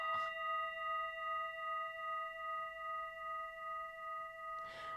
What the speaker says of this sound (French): j'avais envie aussi de vous faire un petit coup de mon bol tibétain